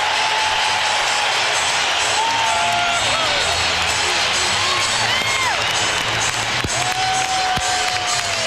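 Basketball arena crowd cheering steadily for the Lakers during a 2003 playoff game against the Timberwolves, a dense roar with whoops and shouts running throughout, loud and sustained, with a few sharp whistles rising above it.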